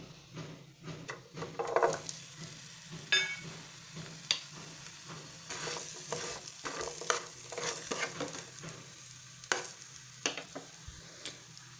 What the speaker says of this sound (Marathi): आता हा मसाला तेलात परतून घ्यायचा आहे। मसाले यात परतल्यानंतर यात टोमॅटोही परतून घ्यायचा आहे।